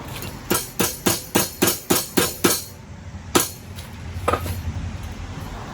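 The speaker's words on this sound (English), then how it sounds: "I'm using the hammer and the bench vise to get a nice clean bend." Eight evenly spaced ringing hammer blows on a metal door lock rod held in a bench vise, then a single louder strike and some scraping and rattling.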